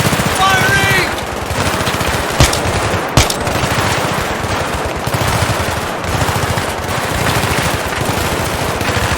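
Sustained automatic gunfire from a Battlefield 3 firefight, loud and close, rattling in rapid bursts for the whole stretch with a couple of sharper cracks near the start.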